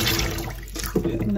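Warm water runs from a tap into a sink, a brief close splashing gush that shifts in pitch as the basin fills, with no talking.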